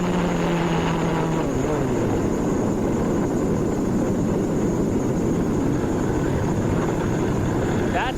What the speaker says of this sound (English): That's what it's like to hear an engine blow, begin to disintegrate.